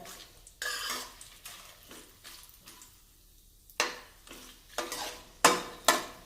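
Cashews roast in ghee in a pan while a spoon stirs them, giving a series of scraping, clinking strokes with soft sizzle in the gaps, close and fairly quiet, with no voices.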